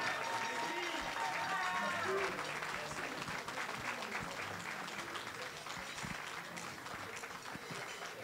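Audience applause welcoming Jean-Paul Leba at the official launch of Ivoire Yako, a steady wash of clapping from a large standing crowd that holds for the whole stretch and eases slightly toward the end, with a voice briefly heard underneath.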